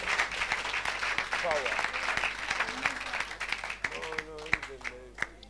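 A church congregation applauds and cheers for Jesus, with loud, sustained clapping and crowd noise throughout and a voice speaking over it.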